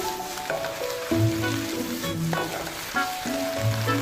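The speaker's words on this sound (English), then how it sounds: "Then add the cabbage leaves and continue stir-frying until the leaves are softened" Napa cabbage leaves stir-fried in a hot wok sizzle and crackle steadily, with scraping stirs of a utensil against the pan repeating throughout, close and moderately loud.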